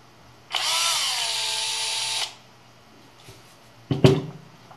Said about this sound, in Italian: iniziate a far girare il trapano